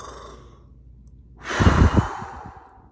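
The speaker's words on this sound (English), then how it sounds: "So we could do a big breath in 3 times" A deep breath taken as part of a breathing exercise: a long audible inhale-exhale with a soft sighing rush, close to the microphone, preceded by a faint tone.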